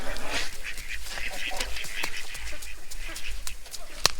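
Geese honk repeatedly, with short overlapping calls in an irregular rhythm at moderate distance over a steady outdoor background, while a voice is faintly heard now and then.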